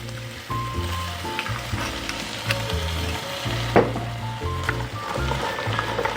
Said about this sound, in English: Add a little bit more Moscato because we can.